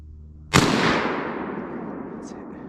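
A single loud rifle shot fired at a downed deer during a Mississippi hardwood-forest rut hunt, a sharp crack followed by a long rolling echo that fades slowly through the woods.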